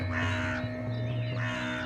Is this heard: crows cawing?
yes